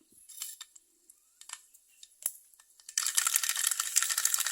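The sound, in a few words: mustard seeds popping in hot coconut oil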